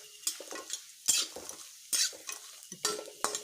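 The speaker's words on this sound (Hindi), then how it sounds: "तेल हमर गरम भऽ गेल, आब तेल में एकरा हम फ्राई कऽ देबै" Aloo biriya frying in hot oil, quiet bursts of sizzle mixed with utensil clinks and scraping stirs in an uneven rhythm, close but soft, no speech.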